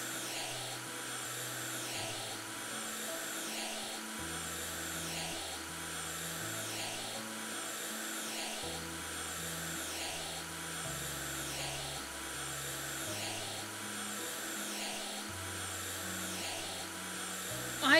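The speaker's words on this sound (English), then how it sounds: "didn't know you could vacuum a window" A vacuum cleaner used on a window in the home renovation video game House Flipper, giving a steady whirring drone in repeated bursts over a looping musical backing, with occasional speech.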